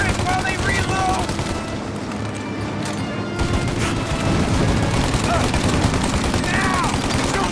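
Gunfire from Mafia: Definitive Edition fills the scene in a dense, continuous fusillade of rapid shots and booms around a turret fight, loud and close throughout, with shouted voices mixed in.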